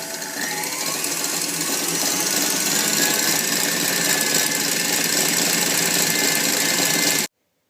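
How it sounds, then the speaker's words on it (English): An electric mixer running at high speed whips meringue icing, giving a steady, loud motor whir with a rattling mechanical hum that holds constant for about seven seconds, then stops abruptly. "we then want to turn our mixer up to a very high speed and allow it to do its job for about 10 minutes"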